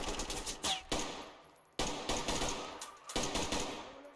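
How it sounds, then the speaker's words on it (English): Automatic gunfire in the tactical shooter game Ready or Not, with rapid bursts crackling loud and close, separated by short gaps and decaying echoes. "Oh, I'm taking fire, that's generally not ideal."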